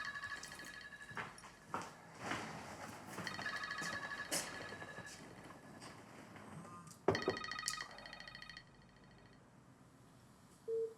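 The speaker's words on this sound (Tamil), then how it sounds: "யார் ஃபோன் பண்றா?" A telephone rings in repeated electronic trills, fairly faint, with scattered clatter and a louder burst of ringing partway through.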